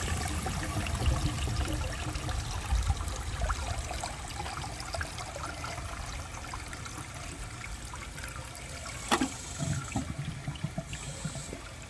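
A 1963 blue American Standard Cadet toilet flushes with a dish towel in the bowl, a continuous rushing and trickling water wash lasting several seconds, with a brief sharp knock near the end.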